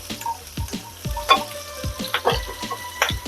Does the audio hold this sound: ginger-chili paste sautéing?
yes